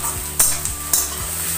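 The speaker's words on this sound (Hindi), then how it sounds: "मैं इसको छावनी से चलाते रहेंगे।" A ladle stirs food in a frying pan while it cooks palak paneer, giving a few distinct metallic scrapes and clinks over a steady sizzle of frying, close up and with no talking.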